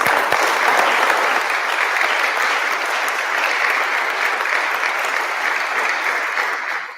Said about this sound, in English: So a big clap for St. Vincent's.